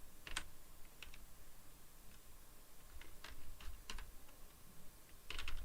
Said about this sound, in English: I definitely need to type them.